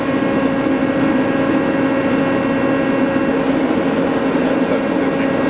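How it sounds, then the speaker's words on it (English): Milltronics ML2260 lathe spindle turning at 350 RPM, a steady, loud, even machine drone with a low hum and constant broadband whir, unchanging throughout with no talk. "Right now we're running the spindle 350 RPM."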